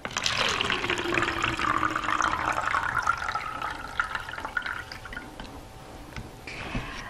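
Tap water runs steadily from a faucet as tomatoes are rinsed, a constant splashing stream that tails off near the end with a few small knocks.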